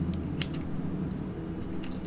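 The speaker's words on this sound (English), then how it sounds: "I'm going to cut 4 strings that are about 25 centimeters long" Scissors snipping embroidery strings cut to about 25 centimeters, giving a few short, crisp snips close up over a steady low background hum.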